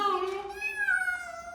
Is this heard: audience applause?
no